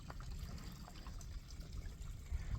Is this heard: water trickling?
yes